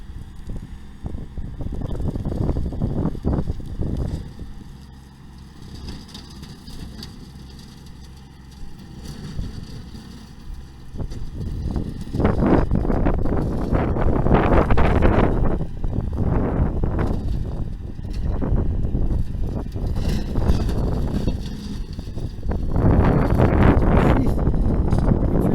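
A small tractor engine chugs and revs unevenly in the open air while clearing sagebrush, swelling louder at times amid rustling and wind noise.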